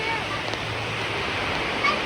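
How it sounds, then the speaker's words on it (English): Water pours steadily under the water slides at Kings Island Soak City water park, a continuous close hissing rush like a small waterfall with a faint splash near the end. "We're going under the water slides here. Get a little waterfall."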